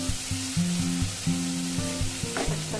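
Large chopped tomato pieces roasting in a pan for dum paneer handi masala give a steady, soft sizzle with occasional stirring scrapes, close and continuous beneath a louder melodic music track, with no talking.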